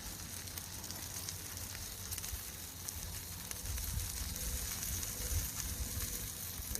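Faint, steady sizzling of an egg frying over a campfire, a continuous crackly hiss with low fire rumble that thickens slightly partway through.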